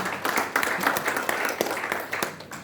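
A church congregation claps during a sermon, a steady wash of hand claps with individual sharper claps standing out, fairly close and continuous throughout.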